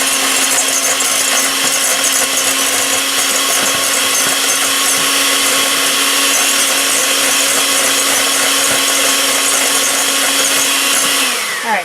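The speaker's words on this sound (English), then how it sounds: "So I'm going to blend it again." A handheld mixer whirs loudly and continuously while blending homemade mayonnaise, a steady close motor drone holding at one level throughout before cutting off at the very end.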